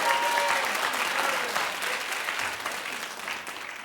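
A television studio audience claps loudly and continuously, a dense burst of applause that starts strong and gradually eases off over a few seconds.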